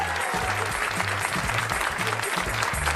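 A comedy club audience applauds loudly and continuously at a stand-up show, dense clapping throughout with a few voices mixed in, cheering along.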